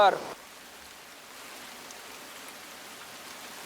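Heavy monsoon rain falls in Bhavnagar, Gujarat as an even wash of steady hiss, moderately loud and unbroken, after a brief snatch of sound at the very start.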